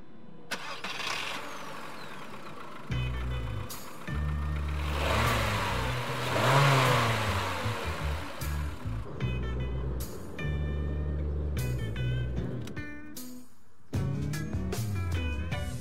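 A car engine cranks and catches, then idles and revs up and down several times, loud and close, with mechanical clatter at the end and no talking.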